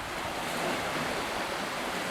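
Sea waves wash steadily onto the city beach in Makhachkala, a continuous broadband surf roar mixed with some wind noise and no voices.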